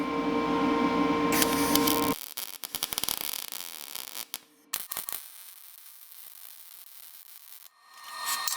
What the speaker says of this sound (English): Just gonna weld back on the piece that broke off.